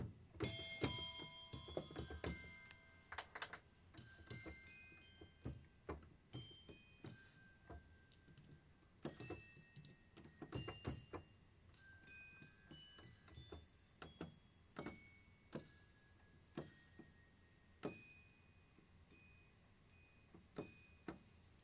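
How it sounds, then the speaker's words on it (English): A sampled hotel counter desk bell, out of tune and clanky, is struck over and over in irregular bursts of bright metallic dings that ring out and decay, sometimes several in quick succession, clear and alone. "It's out of tune and clanky, and it's those desk bells that you see on like a counter at a hotel, like to get someone's attention."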